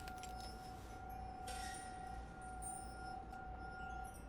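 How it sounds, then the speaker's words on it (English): Old chandelier decorations clink faintly and sparsely in the video game The Suicide of Rachel Foster, a few light glassy chimes over a steady low hum and distant drone. "Every time the window behind the bar was opened, the decorations would clink."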